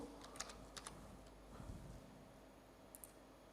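Someone types quietly on a computer keyboard with a few scattered keystrokes and clicks. The room is otherwise quiet.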